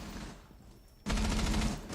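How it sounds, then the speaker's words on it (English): Rapid automatic gunfire in a Rainbow Six Siege esports match suddenly erupts after a quiet stretch, continuous loud bursts of shots exchanged by both teams, game-like and close. "Your gunfire being exchanged from both teams right now."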